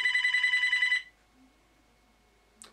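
A telephone rings with a fast, bright electronic trill that pulses rapidly for about one second and then stops abruptly, leaving near silence and a faint short click.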